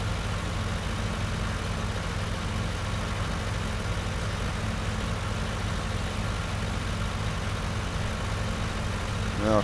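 A tractor engine in Farming Simulator 19, on an Irish map in the seasons mode, drones steadily at a constant low rumble without talking.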